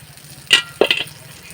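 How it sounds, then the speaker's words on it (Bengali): Eggplant slices frying in a pan, giving two short sharp sizzling bursts close up against a quiet background hum. "এই যে বেগুনটা প্রায় আমার ভাজা হয়ে গেছে"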